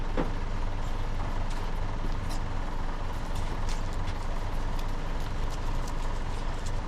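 6.2 diesel engine with a Banks turbo, heard as a loud, steady, rough mechanical rumble close by, without clear breaks or spoken words.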